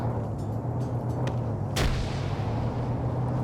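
Gunfire in a large multiplayer military shooter game, a dense constant rumble of distant battle noise with one sharper, louder shot cracking out midway, no voices.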